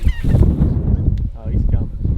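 Geese honk loudly and repeatedly at close range during a windy waterfowl hunt in Alberta, Canada, with gusting wind rumbling underneath.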